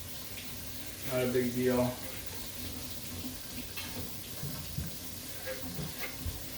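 Tap water runs and splashes while a container is rinsed out, with brief louder gushes and scattered splashing, and someone speaks over it.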